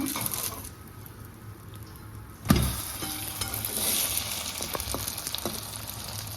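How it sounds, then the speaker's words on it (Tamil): Ragi vegetable bun dosa cooking in a pan over a medium flame, with a steady close sizzle and frying crackle throughout, broken by one sharp clack around the midpoint, with no talking. "அடுப்பை மீடியம் ஃப்ளேமில் வச்சு ஒரு மூடி போட்டு நம்ம குக் பண்ணணும்"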